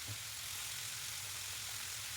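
Boiled jackfruit seeds being mixed and fried in a pan, giving an even, continuous close sizzle with a faint low stirring rumble underneath, unbroken throughout and without any voices.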